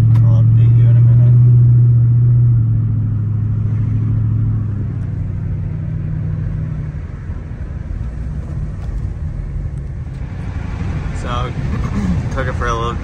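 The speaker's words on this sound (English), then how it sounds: "I'm just gonna go for a little drive" A Dodge sedan driven after a wheel speed sensor repair, heard from inside as a loud, steady low engine and road drone that eases off partway through, with faint rattles later.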